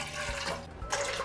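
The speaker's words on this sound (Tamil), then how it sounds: "அடுத்து ஸ்டவ்வில் குக்கரை வச்சுட்டு 2 டம்ளர் தண்ணி, 2 டம்ளர் பாலை ஆட் பண்ணிக்கலாம்" Water and milk splash and pour into a pressure cooker on a stove while sweet pongal is being made, a continuous liquid rush with a brief dip midway, close and fairly loud.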